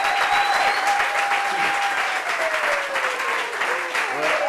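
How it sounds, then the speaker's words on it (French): A studio audience applauds steadily for a woman being welcomed onto a television talk show set, dense clapping sustained throughout with a faint high tone and a sliding whistle-like sound running across it. "Applaudissements pour Mayline."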